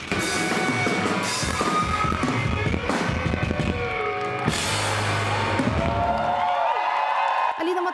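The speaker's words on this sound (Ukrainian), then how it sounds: "Оплески лунають не найгучніше за увесь концерт" A concert audience applauds and cheers in a loud, continuous wash of clapping and whoops that builds and then tapers into ringing musical tones toward the end.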